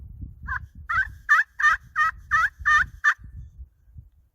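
Turkey yelps worked on an HS Strut Cookie Cutter pot call with a tracer lid, a run of eight evenly spaced, sharp, nasal notes, close and clear, over a low rumble of background handling noise.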